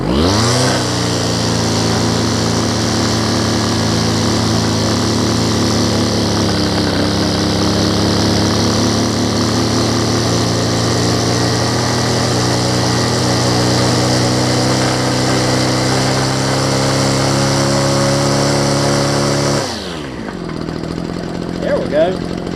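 A small two-stroke Homelite ST275 string trimmer engine, fitted with a new carburetor kit, runs loud and close at a steady buzzing pitch for about twenty seconds, then cuts out abruptly.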